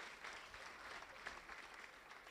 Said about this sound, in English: Yes, give our pastors a round of applause.